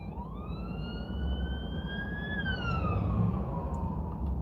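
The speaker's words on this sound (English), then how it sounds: "Here come the ambulance." An ambulance siren wails past on a city street, one long rising sweep that holds and then falls in pitch as the vehicle goes by, moderately loud over steady traffic rumble, with no talking.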